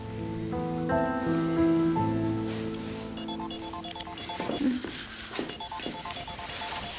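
A phone's melodic ringtone plays at moderate volume, stepping through a repeating sequence of tones over a soft background, with no clear talk over it.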